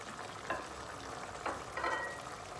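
Halved garlic cloves tumble into a pan where chicken liver is cooking, with a steady low sizzle and a few soft bursts as the pieces land and settle.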